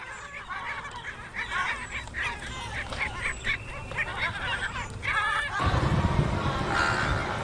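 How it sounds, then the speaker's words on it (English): Seagull calling with a run of loud, harsh squawking cries in quick succession, then a burst of rushing, windy noise with faint cries near the end. "seagull"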